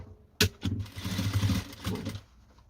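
A sewing machine stitches along the other side of a fabric pencil case with three dividers, running in short loud mechanical bursts with brief pauses between them.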